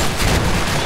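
Dense, loud gunfire from the Special Force 2 shooter game, a fast overlapping burst of shots over about a second with no talk.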